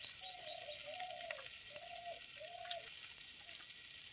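Shrimp fry in hot oil in a pan with turmeric, salt, dried chilli, onion, garlic and green chilli, giving a steady faint sizzling hiss. A few squeaky tonal chirps sit over it.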